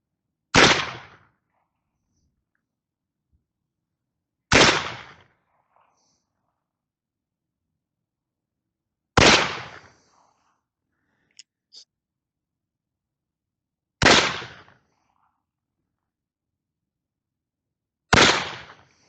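Five loud, sharp shots from an 1851 London Navy cap-and-ball revolver fired one-handed at a range, each a single crack with a short decaying tail, spaced roughly four to five seconds apart with silence between.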